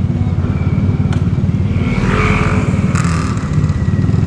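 A motorcycle engine idles and putters with a steady low thump as it rolls slowly into a parking area, close and fairly loud, with a brief rev and some clatter midway.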